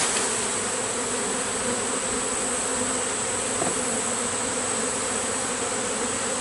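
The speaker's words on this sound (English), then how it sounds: "So it won't take long for these bees to figure out that they need to go home." Dense, steady buzzing of many honeybees at an opened hive during a September inspection, a constant close drone that fills the whole stretch with no voices.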